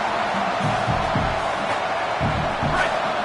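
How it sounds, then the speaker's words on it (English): A roaring stadium crowd fills a college football video game match between Arizona State and Texas A&M, a steady, dense wash of noise with low rhythmic thumps and shouts rising within it. "This crowd, full throat, splitting the eardrums and letting them know it's going to be a long day."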